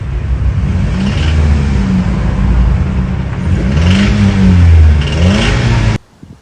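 Scion xB engine with a reported ticking fault, recorded running with a steady mid-pitched hum that rises and falls in a few revs before cutting off abruptly.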